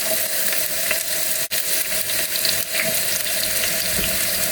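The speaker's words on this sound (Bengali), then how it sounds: "গরম হওয়ার পর আমি দিয়ে দিব পেঁয়াজ" Chopped onions sizzle in hot oil in a frying pan for bitter gourd (karela) bhaji, giving a steady close, loud hiss with one brief dip early on.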